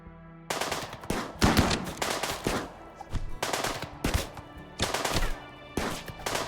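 Rapid bursts of automatic gunfire from the colony game RimWorld, loud repeated volleys with short gaps between them, dense and continuous, with no talking.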